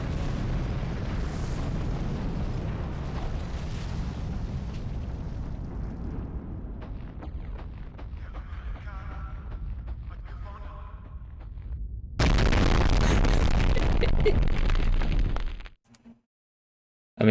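A rocket blast in the 1999 Medal of Honor video game: a dense rumbling roar, then a sudden louder burst of explosion that cuts off abruptly into near silence.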